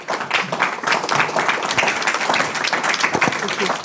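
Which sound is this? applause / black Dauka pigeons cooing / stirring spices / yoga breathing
applause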